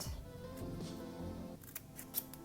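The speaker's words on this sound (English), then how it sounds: "take our scissors and make just a teeny tiny cut" Scissors snip a tiny cut into a pinched sheet of paper, a few faint, crisp clicks near the end amid quiet room tone.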